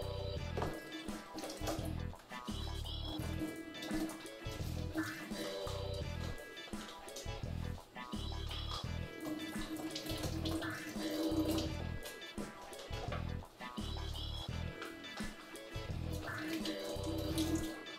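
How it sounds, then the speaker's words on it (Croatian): Eggs rinsed with dish detergent under a running kitchen tap, water splashing steadily and fairly loud throughout, with faint clatter mixed in and no talk. "Jaja uvijek prvo dobro oprati malo sa deterđentom za pranje suđa da se uklone bakterije sa jaja"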